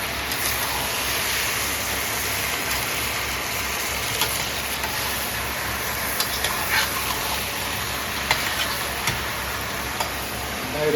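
Local chicken fries and is stirred in a pan, giving a steady, dense sizzle with small ticks and scrapes throughout, and no voices.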